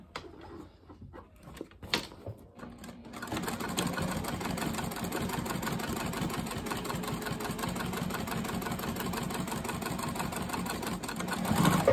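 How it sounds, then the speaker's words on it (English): A sewing machine stitches a hole shut on a quilted crossbody bag. After a few quiet clicks, a steady, close, rapid mechanical whirring runs unbroken to the end. "All right, stitch this hole shut."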